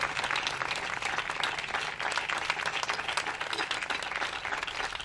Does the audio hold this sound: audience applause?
yes